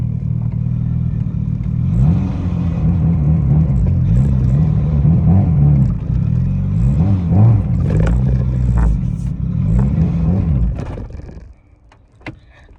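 A car engine drones steadily at close range while driving, with a low rumbling hum and some interior rattles, then drops away abruptly near the end to near quiet with a faint knock.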